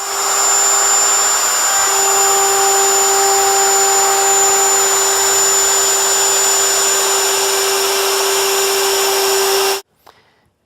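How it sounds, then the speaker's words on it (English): Router fitted with a chamfering bit shaping the underside edges of a rough lumber handrail, with a loud, steady high-pitched whine running continuously at close range until the motor cuts off abruptly near the end. "flip the handrail over and use a chamfering bit to angle the corners of each underside edge"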